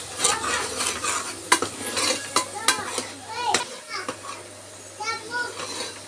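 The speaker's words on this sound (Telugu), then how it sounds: "కొంచెం పసుపు వేసి బాగా మిక్స్ చేయాలి" Potlakaya (snake gourd) curry with oil and turmeric is stirred in a pan: scraping spoon strokes and clinks over a soft sizzle, while children's voices chatter in the background.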